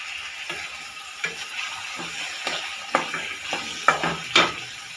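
Soaked moong dal roasting in oil with garlic, a soft continuous sizzle broken by scattered scrapes and clinks of a spoon against the pan, close and with no talk.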